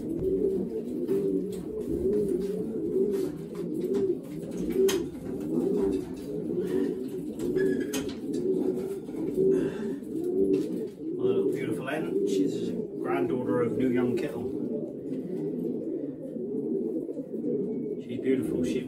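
Racing pigeons coo steadily in a loft while being basketed for a race from Stoney Cross, a continuous close chorus of rhythmic coos with occasional handling noise and people talking nearby.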